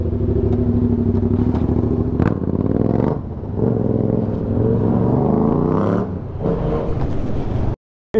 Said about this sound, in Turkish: Bir ara gaz versene, tam tam.